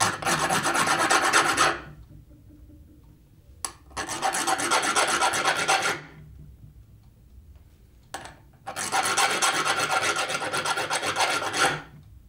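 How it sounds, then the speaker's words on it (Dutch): A hand-held metal file rasps across a protruding thread on a bolt and nut, three long bursts of loud close grating strokes separated by pauses with small knocks. "Dus dan neem je een ijzerveil. En dan haal je hem gewoon lekker langs."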